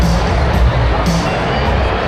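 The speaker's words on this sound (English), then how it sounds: "inside the stadium, very noisy, quite a very packed general access area down there" A packed stadium concert crowd in Cape Town fills the air with a dense, loud, continuous roar of murmuring voices and shouts, heard close and all around without pause.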